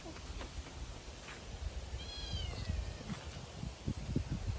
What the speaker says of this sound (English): the cat looks big on camera,